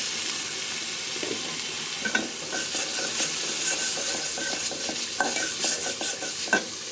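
Chicken with turmeric and salt is sautéed in a pan, making a continuous close sizzle with repeated spatula scrapes and clinks, and no voices.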